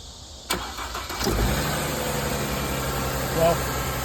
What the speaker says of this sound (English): Well, this started the car.